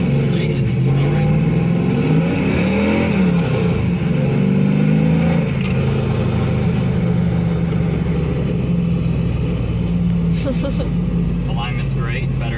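A 1999 Pontiac Trans Am with a manual clutch pulls out into traffic, its engine droning loud and steady close by as revs rise and settle, with occasional talk from inside the car.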